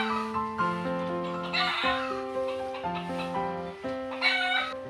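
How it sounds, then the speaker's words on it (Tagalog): A rooster crows over steady clucking from hens, moderately distant, with layered calls overlapping throughout. "mga tilaok ng manok o putak ng manok"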